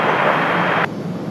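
A Frontier airliner landing at Raleigh-Durham airport on a humid day, a loud broad jet engine roar that drops sharply partway through, then a quieter steady rumble.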